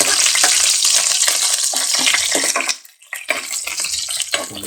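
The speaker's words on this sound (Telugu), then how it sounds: "మంచి సువాసన వచ్చే వరకు వేగనివ్వాలి." Garlic and onion tempering frying in hot oil for an amaranth leaf fry, with a loud, continuous sizzle and crackle, briefly dipping quieter near the end before the sizzle surges back.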